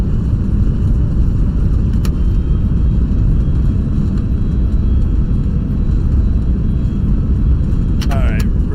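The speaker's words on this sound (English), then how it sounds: "Here come the reversers." Thrust reversers roaring on an Airbus A321neo landing roll in the FSLabs flight simulator, a loud steady broadband rumble that fills the whole clip, with a faint chirp near the end.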